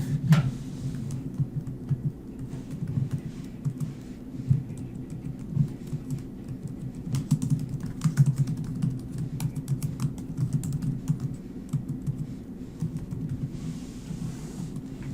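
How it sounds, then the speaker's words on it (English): Steady, rapid clicking of keys on a computer keyboard, continuing for a long stretch over a low background hum. "Typing in your employee ID number will help ensure that your benefit elections are associated with your employee account."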